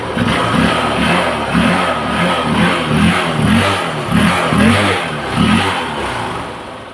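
A Honda Unicorn or Shine motorcycle engine, its carburettor just tuned, runs steadily close by, blipping up in a series of regular revs over a continuous mid-pitched throb, with no talk.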